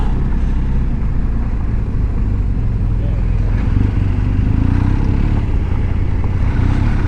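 Adventure motorcycle in Enduro Pro mode riding over loose terrain on a backcountry route, a steady loud engine drone mixed with heavy wind rush, continuous and close throughout.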